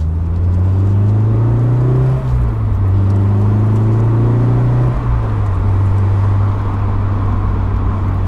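A Honda S2000 AP1 on a Sunday cruise gives a loud, steady engine drone from inside the cabin, its pitch rising and dropping with shifts, under constant road and wind rumble, with no talk.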